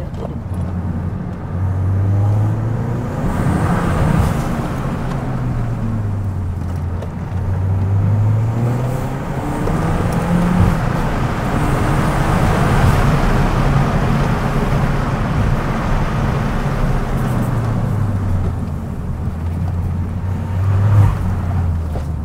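Peugeot 208 GTI engine with a Pop & Bang tune accelerating on the road, a loud continuous close drone with repeated rises and falls in revs, heavy road and wind noise, and no distinct crackles standing out.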